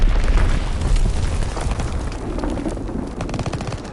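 An enemy bomb blast in Call of Duty WW2, a heavy rumbling explosion up front that trails into crackling bursts and rapid gunfire, loud and dense throughout.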